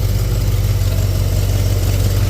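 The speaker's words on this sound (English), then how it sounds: "All I can hear is an exhaust leak, and it's annoying the shit out of me." Ford XA Fairmont GS car engine idling with a cracked exhaust leak: a loud, steady, close low rumble with a rough, pulsing puff throughout and no talking.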